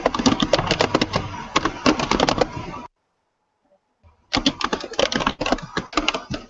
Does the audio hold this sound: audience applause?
no